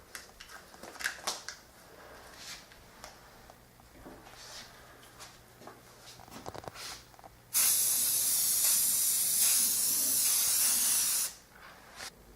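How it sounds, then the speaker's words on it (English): White spray paint hisses steadily from an aerosol can onto a boomerang for about four seconds, loud and close, after quieter handling sounds. "So first I'm going to spray paint it with this white color so the pink will be more visible."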